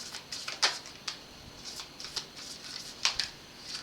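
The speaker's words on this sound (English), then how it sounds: "I'm going to finish it off with this Moonology cards" Moonology oracle cards are shuffled by hand in quiet, soft rhythmic riffles and flicks with small taps, close and faint, with no talking.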